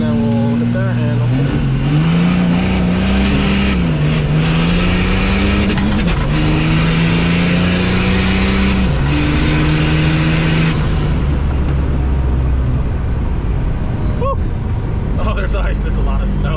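A turbocharged car engine revs hard on a drag strip staging line, a loud sustained roar with rising and falling pitch and a brief dip midway, with someone talking over it.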